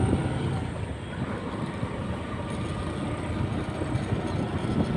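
Motorbike engine running steadily after being started, a continuous low rumble with wind buffeting, heard while riding on a short road trip from Ponnamaravathi to Alavayal.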